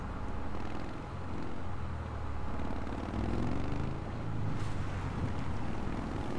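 A 1980 Cadillac Fleetwood's engine rumbles in a deep, steady drone with wind buffeting, loud and continuous for several seconds with no talk over it.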